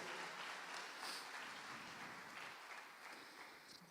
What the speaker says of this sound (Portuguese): Quantos podem aplaudir o Senhor aqui, querido?